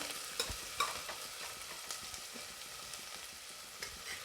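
Onion sautés in a pan with a soft, continuous sizzle, punctuated by light spatula stirs and scrapes, close but fairly quiet.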